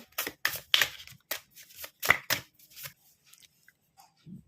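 Tarot cards rustle and slap as one is drawn from the deck, a run of close, crisp papery flicks and taps in an uneven rhythm, with no talking.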